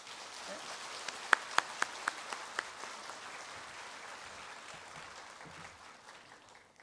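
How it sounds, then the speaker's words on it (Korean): A church congregation applauds to welcome a guest pastor. A few sharp individual claps stand out early, then a soft, distant wash of applause continues, fairly faint throughout. "박수로 맞아주세요"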